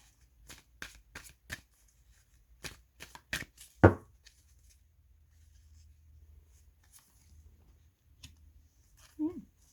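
Tarot cards being shuffled by hand during a reading, a run of crisp riffling flicks and slaps up close, the loudest in the first four seconds, then softer handling with a brief voice near the end.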